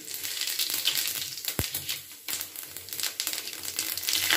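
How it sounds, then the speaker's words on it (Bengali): Cumin seeds dropped into hot oil for a Bengali rui fish curry, a dense crackling sizzle with sharp pops, one low thump midway, continuing steadily at close range without talk. "এবার তেলেতে দিচ্ছি জিরে"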